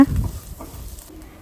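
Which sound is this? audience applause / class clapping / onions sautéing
onions sautéing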